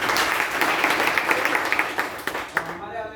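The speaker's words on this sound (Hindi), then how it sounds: "इन लोग को स्वागत करेंगे जोरदार ताली के साथ।" A gathering of long-time members claps loudly to welcome newcomers at a meeting, a brisk burst of applause that thins into scattered claps and stops near the end.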